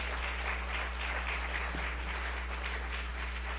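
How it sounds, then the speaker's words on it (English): A Sunday church audience gives a round of applause for a birthday, a soft, steady spread of clapping from many people heard over a constant low electrical hum. "So let's give them a round of applause."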